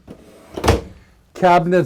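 A cabinet door or drawer in a 2012 Monaco Vesta 35 PBD Class A diesel motorhome closes with a single short, close thump, followed by someone talking.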